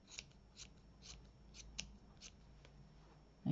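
Scissors snipping the yarn of a pom-pom, a series of about eight light, close crisp snips spaced roughly every half second in a quiet room.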